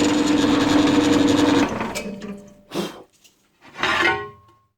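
A dull, blunt drill bit grinds steadily through a workpiece while building a tyre machine, a loud continuous motor whine that cuts off after about a second and a half, followed by brief clunks and a short burst of rattling.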